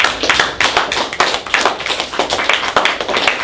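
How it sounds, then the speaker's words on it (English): A small classroom group claps for their first class leader, a short burst of distinct, fairly close handclaps with an uneven rhythm, no talking. "a big round of applause for your first leader yesterday"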